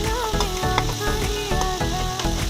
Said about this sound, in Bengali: এখন আমি ওই কড়াইতে তেল দিয়ে তার মধ্যে দিয়ে দিলাম কাঁচা লঙ্কাটা। কাঁচা লঙ্কা বড্ড ছিটছে।